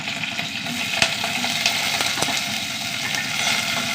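Onion, garlic, dried red chilies and curry leaves sauté in a pan with a steady close sizzle, broken by a few sharp scraping clicks from stirring.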